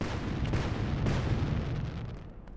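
A rumbling explosion in the LEGO Pirates of the Caribbean video game, a dense low boom that stays loud and continuous throughout, with a couple of sharper bursts on top.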